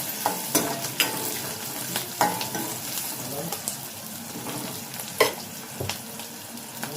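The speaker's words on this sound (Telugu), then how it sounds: "ఈ ఉల్లిపాయ ముక్కలు అలాగే పచ్చిమిర్చి అన్నీ కూడా బాగా ఆయిల్లో మగ్గనిచ్చుకోవాలి, గోల్డ్ కలర్ వచ్చేంత వరకు" Sliced onions and green chillies frying in oil with curry leaves, a close sizzle broken by sharp spatula clicks and scrapes against the pan at irregular intervals, with no talk.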